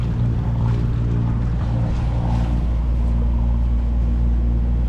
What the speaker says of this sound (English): wind's directly astern, so we're just motoring at the moment down the coast here